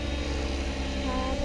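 A remote-control helicopter with a newly reconfigured motor gives off a steady propeller whine and drone, with a voice faintly under it.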